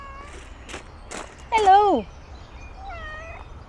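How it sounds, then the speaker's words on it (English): A small, lively house cat gives a short, fairly loud meow in a quiet room in an English town, with a person's voice calling out briefly just before it and fainter chatter after. "They've got a cat, right? Hey! Careful! This cat is like a little rascal."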